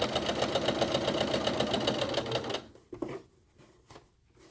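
A sewing machine stitches over bulky backpack seams with a fast, loud, rhythmic mechanical chatter for a few seconds, then stops, leaving a few quiet handling clicks.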